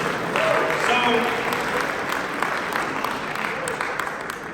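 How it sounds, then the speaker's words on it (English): A university audience applauds volunteers steadily throughout, a dense wash of clapping that fades slightly toward the end, with a brief spoken word near the start. "Clap it up again for my volunteers."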